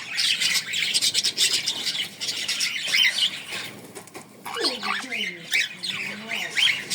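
Birds at a bird zoo in Tallinn: dense, loud squawking and chattering with wing flaps, then a few clear descending calls, close, with people talking faintly underneath.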